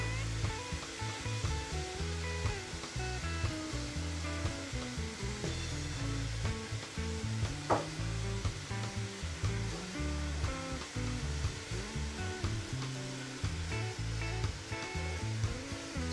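Chicken pelau with ruku browning in a pot in Paramin, Trinidad, giving a loud, steady sizzle and hiss that holds constant throughout, with no voices.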